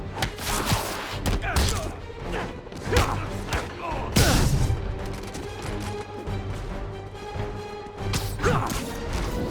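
Chaotic bursts of gunfire from multiple vehicles mixed with crashes and thuds roll on for several seconds in the video game Marvel's Spider-Man, dense and loud, with a busy game soundscape underneath.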